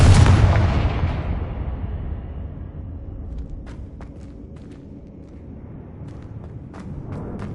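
A Confringo blasting spell explodes in Hogwarts Legacy with one loud, close boom at the start that decays into a long rumbling tail, followed by faint scattered clicks and footsteps.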